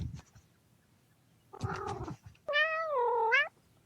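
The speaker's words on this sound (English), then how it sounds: "He meows like this, loudly, desperately for food." A cat meows twice, loud and close: a short rough cry, then a longer, drawn-out wailing meow.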